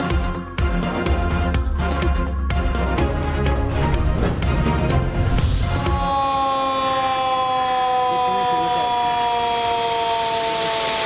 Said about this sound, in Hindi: स्पिलवेज खुलने से पहले सायरन बजाए गए।